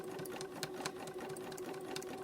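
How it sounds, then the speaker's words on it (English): A sewing machine runs steadily for its full length, stitching through fabric-wrapped rope for a coiled bowl, with a continuous mechanical whir and rapid needle clatter close by, the thicker double-wrapped sections making it labour. "My sewing machine doesn't like a whole lot of thickness, so wherever I double wrap, it'll grab hold to it"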